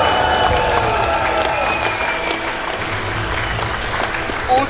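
Crowd in Wroclaw applauding the winner of a Strength Wars League strongman parkour event, a dense sustained clapping roar with an announcer's voice over it, fairly loud throughout.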